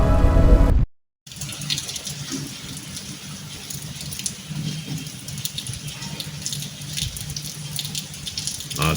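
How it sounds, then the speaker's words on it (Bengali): Steady rain falling on an afternoon into evening in the rainy season, a continuous broadband wash of drops and patter, close and fairly loud, with no talking. "দুপুর থেকেই বৃষ্টি ধরছে বেশ বৃষ্টি একেবারে সব ভিজে একাকার"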